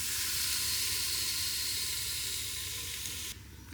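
Bacon rashers in a Ninja Speedi grill give off a steady, loud sizzle and hiss with no talking, then the sizzle drops in level near the end.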